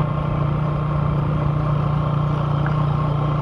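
A motorcycle idles at a gas station just after its tank is filled, giving a steady, even low engine hum that stays constant throughout, with no talking.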